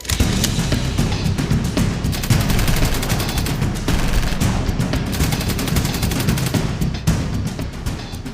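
Dense, sustained bursts of machine gun fire crackle continuously, with rapid overlapping shots forming a loud, steady barrage throughout.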